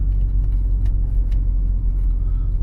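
A car rolls slowly in second gear along a narrow road in Sharhorod, its engine giving a low, steady rumble with road noise, even and unbroken, no talking over it.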